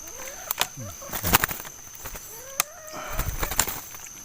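Limokon doves kept as breeding birds flutter and call close by in an outdoor setting, with wing flaps, short coos and scattered clicks over faint background noise and murmured voices.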